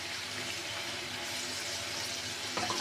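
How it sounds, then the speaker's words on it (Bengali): Water poured into a pot of cooking mutton, producing a steady close splashing, running-water rush throughout. "এখন একটু পানি অ্যাড করে দেব।"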